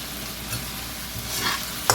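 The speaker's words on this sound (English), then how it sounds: "just to hold it while we start frying the rice" Steady sizzling and stirring of food frying in a wok, with a brief scrape of a utensil near the end.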